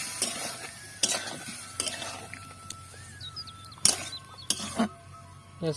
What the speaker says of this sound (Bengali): এটাকে ভালোভাবে মিশিয়ে নেব